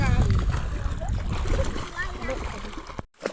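Children splash in the sandy shallows of the Godavari river, with bursts of water and a steady wash running under near, overlapping chatter and young voices.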